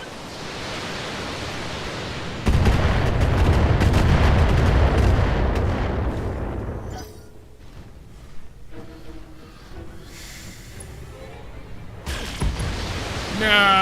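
Missiles launch in the mech game Battletech, a loud roaring barrage of rushing blasts that sustains for several seconds, fades into scattered distant impacts, then surges again.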